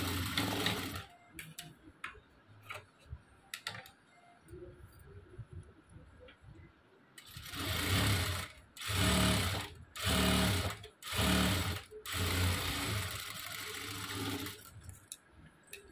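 A sewing machine stitches lining cloth onto a blouse edge, starting with a few faint clicks, then running in several loud, close bursts of rapid whirring separated by short pauses.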